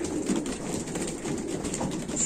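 Pigeons coo in a loft, a steady, close, overlapping murmur of soft cooing that runs continuously with no talking.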